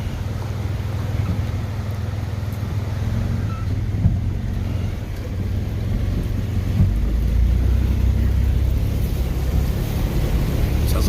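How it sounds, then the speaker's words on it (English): A car's exhaust gurgles and rumbles steadily while it drives through deep hurricane flood water, a low continuous churning drone that grows slightly louder toward the end. "Sounds like my exhaust is gurgling a little bit."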